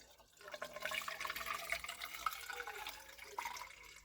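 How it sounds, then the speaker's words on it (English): Half a litre of ordinary tap water poured through a funnel into a container of petrol, heard as a faint, continuous trickling splash lasting a few seconds. "In here, I have exactly half a litre of water. This is normal tap water. Toss that in with your petrol."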